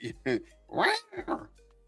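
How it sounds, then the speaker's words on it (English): A house cat meows loudly several times in short bursts, close to the microphone, with people talking in between during a sports schedule discussion. "Sorry, my cat is loud."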